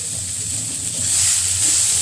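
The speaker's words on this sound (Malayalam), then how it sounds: "നന്നായിട്ട് വറുത്തെടുക്കാം നമുക്ക്." Bitter gourd with green chilli, onion and curry leaves frying in a pan, a steady close hiss and sizzle that swells louder toward the end, with no talk.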